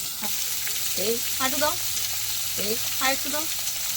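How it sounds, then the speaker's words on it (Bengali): Cumin seeds and potatoes fry in hot oil with a steady background sizzle, while a voice talks intermittently over it. "এই জিরা ফোড়ন দিচ্ছে মা এবার এই যাচ্ছে আলু"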